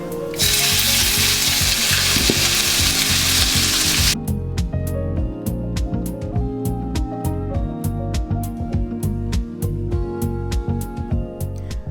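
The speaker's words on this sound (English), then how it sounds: "When your oil is hot, add your beef." Beef hitting hot grapeseed or vegetable oil in a wok gives a loud, steady broadband sizzle for about four seconds, then cuts to rhythmic music with regular clicking ticks.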